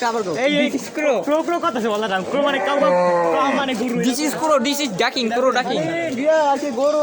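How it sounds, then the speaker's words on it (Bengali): Cows moo loudly and repeatedly at a Qurbani cattle market, long drawn-out calls overlapping one another, close by with people talking in the background. "গরু"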